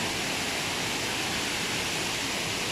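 Water tumbling down at Vattayi waterfall, a continuous dense rushing hiss with no pauses, steady and fairly close.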